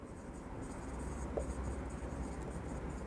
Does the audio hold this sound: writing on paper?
yes